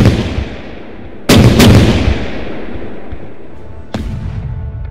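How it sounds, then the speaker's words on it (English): Naval cannon fire in a sea battle between ships of the line, with a sudden booming blast and a second close on its heels, a long rumbling decay, then another distant boom. "Admiral Gravina's ships pounded the remaining British ships with cannon fire."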